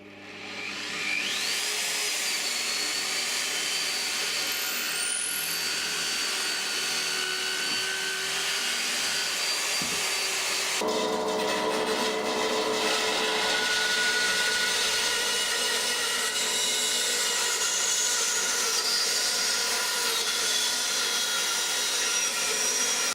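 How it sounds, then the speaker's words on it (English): A bandsaw cuts wood from drilled hole to hole while a 12-string guitar is being built. Its high whine runs continuously and up close, turns harsher and louder partway through, and goes on with no speech. "basically saw from hole to hole so that I minimise the scope for the bandsaw blade wandering off"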